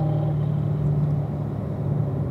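Chevrolet Corvette Z06 accelerating on a race track, a steady loud engine drone with a low rumble held throughout, close and with no pauses.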